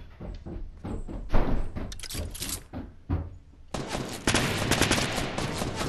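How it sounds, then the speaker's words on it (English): A rapid burst of gunfire in the Fortnite video game, a string of close repeated shots followed by a denser sustained barrage of firing and impacts. "Someone shooting me."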